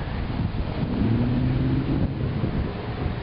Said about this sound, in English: With the wind picked up.